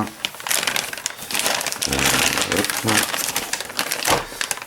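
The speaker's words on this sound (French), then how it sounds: "Alors on va d'abord déballer les pièces" Parts of an Eaglemoss 1/8 scale Ecto-1 model kit unpacked from plastic packaging, close crinkling and crumpling in bursts with soft knocks, while someone talks over it.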